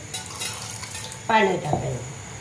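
Water poured into a gram flour and curd mixture for kadhi, a short splashing pour with stirring clatter against the vessel, close up, following a quiet stretch.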